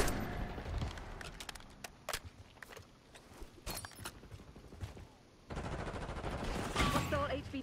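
Call of Duty Black Ops 6 combat with sporadic single gunshots and short bursts, then a denser stretch of automatic fire near the end, over low background game noise.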